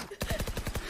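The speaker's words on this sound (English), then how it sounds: "Follow the gunshots." Rapid burst of about eight gunshots in the video game Valorant, sharp evenly spaced cracks in a quick rhythm, loud and close, with faint voices underneath.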